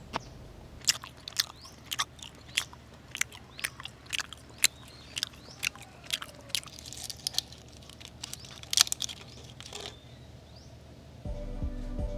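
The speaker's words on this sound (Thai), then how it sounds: "แต่ว่ามันอยากกินให้เพื่อนๆดู เลยถ่ายตอนกินมาให้ดูสักหน่อย" Crunchy spaghetti-shaped snack sticks from a 7-Eleven bag being bitten and chewed close up, sharp irregular crunches repeating for about ten seconds, followed by a brief rustle at the end.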